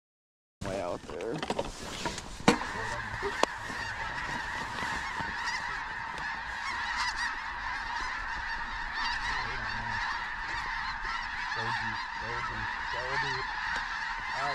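A large flock of snow geese honks continuously during a fall hunt, dense overlapping calls filling the air steadily and loudly, with a few sharp knocks early on.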